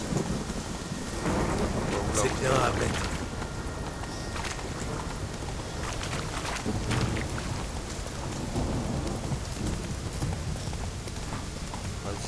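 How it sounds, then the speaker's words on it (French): Thunderstorm with rain in The Witcher 3 game, steady rainfall under rumbling thunder and clip-clopping horse hooves, with someone talking briefly over it near the start. "Ouais, de l'orage dans l'air."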